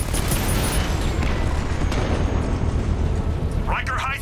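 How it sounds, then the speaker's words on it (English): A controlled explosion in the video game Batman Arkham Knight, a loud, heavy rumbling blast that roars continuously with deep low-end debris noise, with a voice coming in near the end. "I can use the power winch to trigger a controlled explosion."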